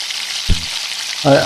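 Coconut, garlic, ginger and coriander roast in a pan for a roasted-coconut curry, a constant frying sizzle broken by two brief stirring scrapes, with short voice fragments.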